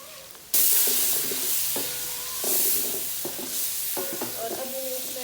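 Garlic and spices roast in a hot pan for moong masoor daal, a loud steady sizzle starting abruptly and swelling in waves, with a spoon scraping and stirring through it.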